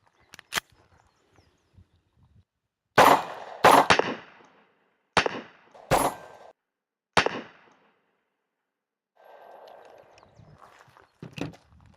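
A SIG P290 9mm pocket pistol fired outdoors: several sharp, loud, separate shots spaced a second or so apart, each with a short echoing tail, with quiet gaps and faint handling noises between.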